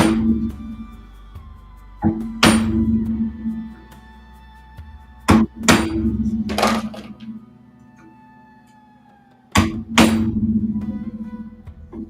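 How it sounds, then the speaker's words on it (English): A wood chisel is struck with sharp, close taps while cutting dovetails in wood, a handful of distinct hits spaced irregularly, each ringing briefly before fading. "Now something you'll see me do is that I'm not holding my chisel straight anymore."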